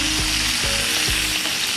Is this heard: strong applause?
no